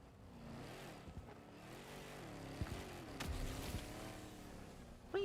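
The FRV vehicle in Helldivers 2 revs its engine with a deep, meaty growl that rises and falls in pitch, faint and steady throughout, ending in a sudden louder burst.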